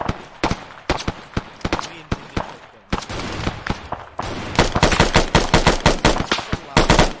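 Gunfire in the video game Arma 3: sharp, loud shots ring out, first as scattered single cracks and short bursts, then as dense rapid automatic fire that continues to the end, with brief voices underneath.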